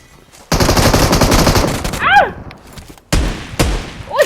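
Rapid automatic gunfire in the PUBG Mobile snow-town event bursts loud and close in a sustained stream, then stops before a few more sharp shots near the end; a quick whooshing effect sounds midway, with no clear talk.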